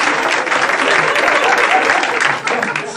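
Studio audience applause at the close of a Turkish talk show, a loud, dense, continuous wash of clapping that holds steady for the whole stretch with a slight dip near the end.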